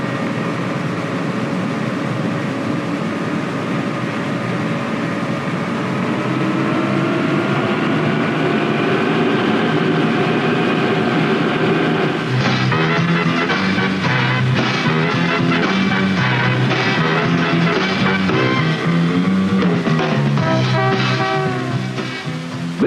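A Navy hydrofoil ship's gas turbine spools up for takeoff, giving a loud, steady roar with rising whine. Partway through, dense rattling and thrumming join as the craft accelerates, all continuous and close.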